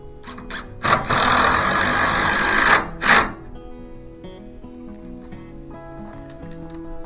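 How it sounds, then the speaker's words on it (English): Power drill whining in two loud bursts, one long and one short, as it drives glue screws through wood into concrete while a barn door and chicken yard are built; quieter workshop hum continues between and after. "And I'm just going to fasten with glue screws."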